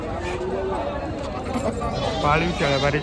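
Osmanabadi goats at a crowded goat market bleat several times over a steady background of chatter and nearby voices, with a few rising wavering calls toward the end.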